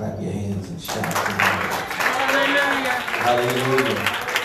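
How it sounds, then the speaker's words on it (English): A church congregation at a Sunday evening service claps and shouts together, a dense burst of hands and raised voices that swells suddenly and holds steady, close and loud. "One more time, clap your hands and shout."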